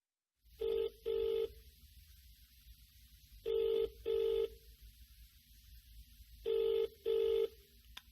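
A telephone rings with a classic double-burst pattern, three pairs of clear electronic rings separated by pauses, fairly close and alone with no voices.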